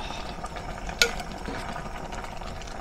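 Cooked small shrimp being stirred in a hot pan with a utensil, a soft continuous scraping and sizzle with one sharp clink of metal against the pan near the start.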